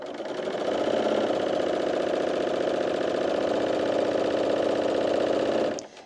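A sewing machine stitches the side seam of a t-shirt in knit fabric, a close, steady whirring hum with a fast mechanical rhythm that runs continuously for several seconds before stopping abruptly.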